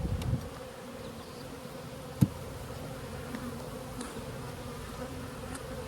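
Honey bees buzzing around an opened hive during a frame inspection, a steady close drone with a faint thud partway through, no talk.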